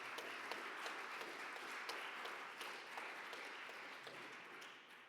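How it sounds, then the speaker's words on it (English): An audience at a public transport awards ceremony claps in a steady, even round of applause that stays fairly quiet and distant throughout. "Big round of applause."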